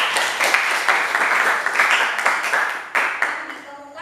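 Group applause from students in a classroom, a dense run of many hands clapping at steady strength that continues for about four seconds, with a short break near the end before a few last claps.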